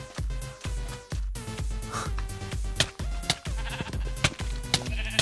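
A sheep in the Minecraft video game bleating repeatedly, a rapid series of loud, nasal bleats in an even rhythm close up, with no talk over them.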